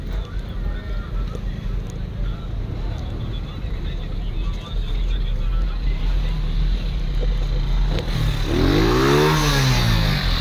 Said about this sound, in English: Making a lot of noise, that motorbike